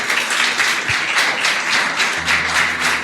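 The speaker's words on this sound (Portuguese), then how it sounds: "Vamos aplaudir Jesus bem forte." Congregation applauding during a church sermon, a continuous, fairly loud crowd clapping with a faint low hum underneath, no voices on top.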